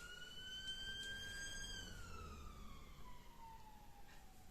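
An ambulance siren wails steadily with a long falling pitch sweep, heard over a constant low rumble of traffic, moderately distant and passing.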